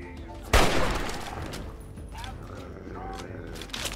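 A single loud gunshot cracks out in Fallout 3 and is followed by a fading echo and faint clattering mechanisms. The report is near and abrupt.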